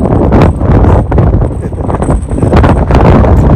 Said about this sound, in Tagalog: taas pa rin na hangin ha